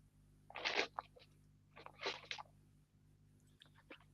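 Crunchy bites into an Aussie zucchini slice, two loud close crisp bursts about a second and a half apart, each followed by short crackles, then softer faint crunching near the end over a low steady hum.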